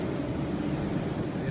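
Typhoon wind roaring outside closed doors, a steady, fairly faint rushing and buffeting noise with no clear gusts standing out.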